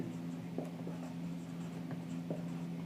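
Pen-on-paper handwriting gives faint, close scratchy strokes and small taps over a steady low electrical hum, with no talking.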